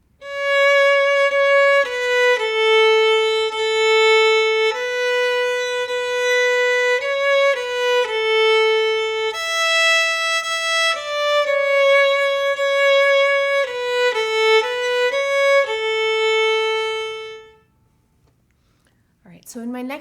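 A violin plays the Go Tell Aunt Rhody melody with fingered notes, a simple beginner tune of steady bowed notes changing pitch, close and clear, ending after about seventeen seconds before a brief voice begins.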